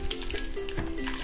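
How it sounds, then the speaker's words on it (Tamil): Peanuts dry-roasting in a pan for a Tamil puliyodarai tamarind rice dish, giving a close, steady crackle and sizzle with a few brief stirring scrapes, no voices. "அடுத்து நம்ம 1/4 கப் அளவுக்கு வேர்க்கடலையை சேர்த்திக்கலாம். அதுவும் நல்லா ரெட்டிஷ் ஆகிற வரைக்கும் நல்லா வறுத்துக்கோங்க."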